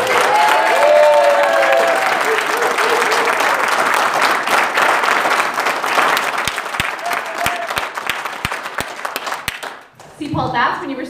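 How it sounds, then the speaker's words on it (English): Church congregation applauding during a Sunday morning service, loud sustained clapping with cheering voices and talk mixed in, thinning into scattered individual claps before fading near the end. "So a round of applause for my wife."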